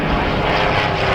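A propeller airplane flies past at an air show at Matamata Airfield, its engine a loud, steady, close drone that holds through the brief moment.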